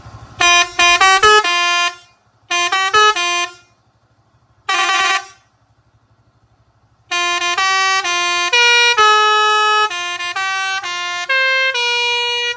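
Loud multi-tone air horn driven by an Inoue jet compressor: a rapid series of short honks, a pause, more bursts, then a long sustained chord of horn notes, with a low compressor hum beneath.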